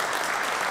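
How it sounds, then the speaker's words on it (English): A brief burst of steady applause from an audience at an Ontario economic development announcement in Hamilton, dense and even throughout the short moment. "so an extra round of applause"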